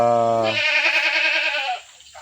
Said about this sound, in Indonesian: ini ternak-ternak kambingnya ada di belakang rumah beliau, Pak Ustadz Jumadiono